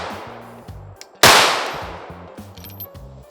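A single sharp, loud shot from a Lone Wolf Arms Alphawolf pistol cracks out and rings away, with low mechanical tones around it before and after.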